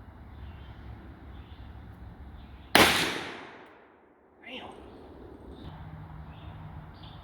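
A single loud magnum revolver shot fired with Federal Fusion ammunition, a sharp blast whose echo rolls away over a couple of seconds against a quiet outdoor background.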